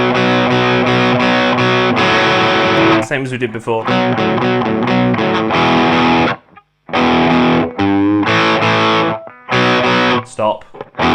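Distorted electric guitar plays a chugging chord turnaround, loud and close, with choppy stops, slides and short gaps between phrases; someone speaks briefly over it.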